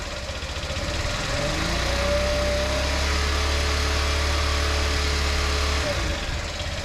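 A Honda Elite scooter engine idles steadily while warming up, a continuous low putter running close and fairly loud throughout with no break.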